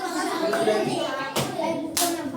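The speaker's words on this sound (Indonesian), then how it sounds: "Tepuk 1, tepuk 2, tepuk 3, tepuk 1, tepuk 2, tepuk 3" Schoolchildren in a fifth-grade class clap in a counting game, a run of soft hand claps followed by two sharp, loud group claps spaced apart.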